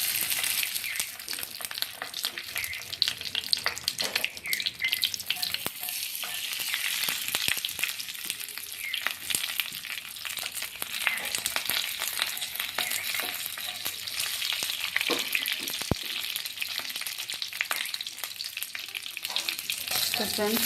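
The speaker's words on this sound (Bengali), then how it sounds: "তেল আমার গরম হয়ে গিয়েছে। এবার পাতুরিগুলিকে ছেড়ে দিব।" Paneer paturi, paneer parcels wrapped in leaves, frying in a pan of hot oil, a loud continuous crackling sizzle with sharp spits and pops scattered through it, unbroken by speech.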